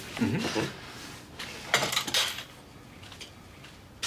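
Dishes and cutlery clink and clatter in a few bursts, with some rattling and quieter handling between them; no clear talking.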